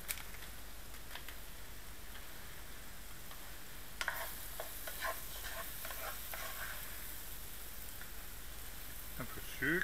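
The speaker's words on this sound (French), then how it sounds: "Et on va les faire caraméliser un petit peu." Apples caramelizing with vanilla sugar in a pan give off a soft, steady sizzle, broken by light scraping and clicking as they are stirred, with no talking.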